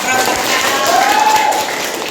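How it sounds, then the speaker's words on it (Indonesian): A classroom of students applauds, a loud, steady burst of many hands clapping together that stays even for about two seconds, with some voices mixed in under it. "Betul. Tepuk tangan."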